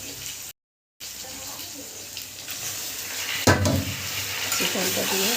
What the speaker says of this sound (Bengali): চিকেনটা দিয়ে আমি নাড়াচাড়া করে নেব বেশ কিছুক্ষণ ধরে।